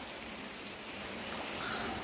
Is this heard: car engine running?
no